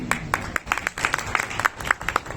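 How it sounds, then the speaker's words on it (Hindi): A crowd claps at an indoor public speech programme in Sawai Madhopur, with scattered, uneven handclaps and brief bursts, fairly near, over a low background murmur. "तालियां नहीं बजाएं"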